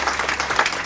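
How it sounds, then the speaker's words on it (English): An audience applauds at a weight-loss talk, a steady wash of many hands clapping together for about a second with no pause. "That's so lovely of you to clap"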